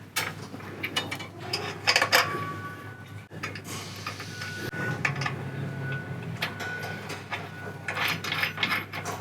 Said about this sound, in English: we'll tighten everything down slowly together and suck it all right up against that frame rail